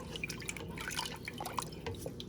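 Water poured into a pot of simmering vegetable and chicken soup with cauliflower, corn and beans, heard as a continuous close trickle and drip with light splashing throughout, no talking.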